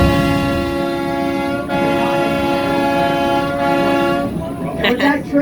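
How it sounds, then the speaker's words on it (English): A loud, sustained locomotive horn blares for several seconds at a mountain railway in New Hampshire, its steady chord cutting off abruptly, followed by rumbling rail noise. "With that train blast"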